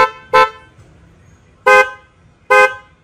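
Loud aftermarket horn on a Mitsubishi Montero GT 4x4 sounds in three short, blaring honks, the first alone, then two more about a second apart, with quiet idle noise between.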